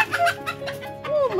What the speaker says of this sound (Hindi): ये देखिए क्या हो रहा है, आज मुर्गी पकड़ी जा रही है।